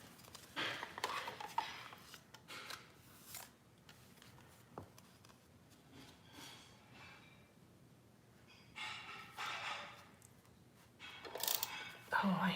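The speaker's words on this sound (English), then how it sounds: "I think he's emptying the dishwasher" Dishes and cutlery clink and clatter faintly from a kitchen as a dishwasher is emptied, scattered knocks and rattles in bursts behind a quiet room, with soft speech nearby.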